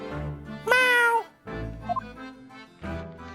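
A male calico cat meowing in The Great Ace Attorney 2: Resolve, a few close, clear meows and short mews spaced across a quiet background, with no voices.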